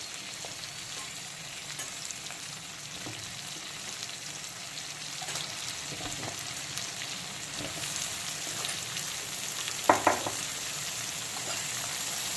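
Crab and vegetables, sweet potato among them, fry in a wok with onion, giving a steady close sizzle with soft stirring scrapes and a couple of sharper clinks near the end.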